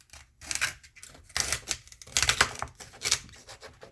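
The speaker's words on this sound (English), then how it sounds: "Now I'm just going to cut the ends out." Knife cuts trimming the white ends off fresh asparagus spears: a few crisp, snappy chops in uneven bursts, close and moderately loud, with no talking.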